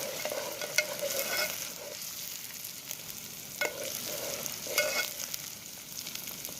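Garlic and green chili sizzle in a pan for paneer curry in a village kitchen. A steady frying hiss runs throughout, with scraping stirring strokes recurring at intervals and no talking.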